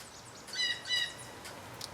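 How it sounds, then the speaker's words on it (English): A small bird gives two quick bright chirps, faint and a little distant, over a quiet hiss in a workshop where a rusty 1967 Starcraft boat and its outboard motor are being restored. "Yep, bird's excited too."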